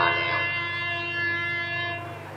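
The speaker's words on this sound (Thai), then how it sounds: "ขณะนี้รถไฟกำลังเทียบชานชาลาแล้ว" Train drawing into a station platform, a steady rumble with a sustained horn-like tone that holds most of the time and then drops away near the end, moderately loud and without talk.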